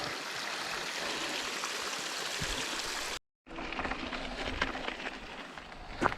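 A mountain stream in Val Gardena rushes in a constant, full splashing roar nearby, broken by one brief silent gap before the flowing water resumes, with no voices.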